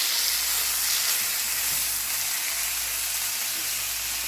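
Ground beef sizzles in a cast iron skillet with a constant, bright hissing fry and occasional soft scrapes as it is broken apart, loud and steady throughout.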